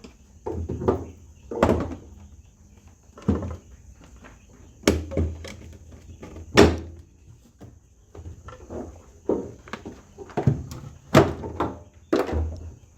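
Plastic lid of a Premier1 Solar IntelliShock 120 fence charger being handled and shut, a string of close knocks, thumps and clunks spread irregularly across the stretch.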